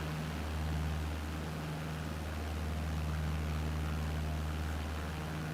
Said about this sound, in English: The engine sounds like it's like a putt-putt.